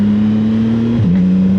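A CFMoto 675SS motorcycle engine drones loudly and steadily while riding, a sustained close hum that dips briefly in pitch near the end as if shifting.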